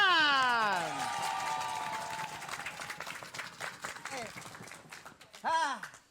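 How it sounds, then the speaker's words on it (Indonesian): A studio audience on an Indonesian TV game show claps for Mucle and friends, mixed with voices and a swooping sound effect. The clapping fades slightly before a brief loud burst near the end. "Terakhir, kita kasih tepuk tangan untuk Mucle dan teman-teman"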